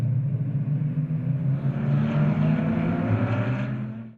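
A Dodge Viper Cup race car roars past on the Hallett Motor Racing Circuit, its loud, steady engine note swelling close by for several seconds before cutting away at the end.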